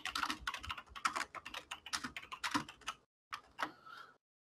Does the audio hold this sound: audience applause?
no